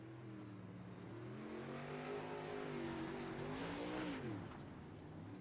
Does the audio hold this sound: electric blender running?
no